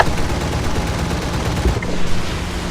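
Rapid aircraft gunfire in War Thunder, from 20 mm cannons and .50 cal machine guns all mounted in the nose, rattling as a dense continuous burst for nearly three seconds with no talk.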